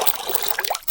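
Water poured onto a plant in the video game Mitoza, a short bright splashing trickle lasting about a second, fairly loud and heard alone.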